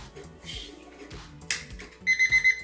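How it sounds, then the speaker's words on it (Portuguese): An alarm clock goes off with a quick run of bright electronic beeps near the end, after a few scattered knocks and rustles. "Nós acionamos o uso do despertador"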